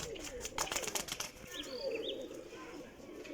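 A racing pigeon released outdoors, with a short flurry of wing flaps followed by soft bird calls and low background noise.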